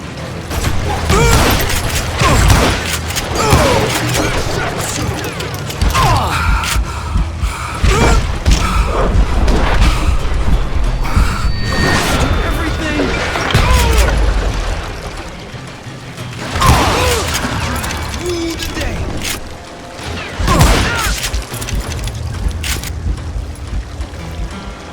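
Western-style gunshots and booming impacts fill a chaotic shootout in the video game Call of Juarez Gunslinger, loud and frequent bursts over layered game sounds, with shouted voices mixed in.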